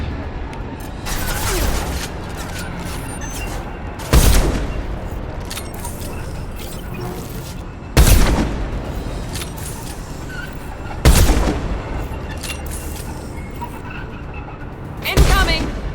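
Gunfire in the sci-fi shooter Mass Effect 2 comes as four heavy, evenly spaced booming blasts over a steady background din of combat, with voices calling out between them.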